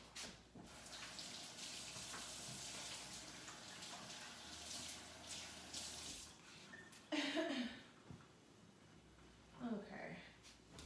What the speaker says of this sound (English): always wash, rinse off my meat first.